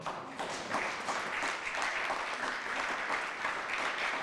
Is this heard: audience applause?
yes